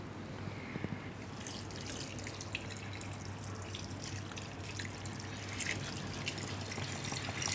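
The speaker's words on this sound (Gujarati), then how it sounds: "અને પાણી નાખી દેવું." Water being poured into a cooking pot of sambhar with salt and turmeric in a home kitchen, a faint, continuous trickle and splash with scattered drips throughout.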